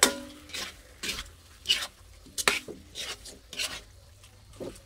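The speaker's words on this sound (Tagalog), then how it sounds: "saka natin ilagay yung hipon. Wow! Yan, halo-halo." Shrimp being stirred in a pan with butter, a series of rhythmic scraping strokes of a utensil against the pan at close range, each about a second apart, with faint sizzling between.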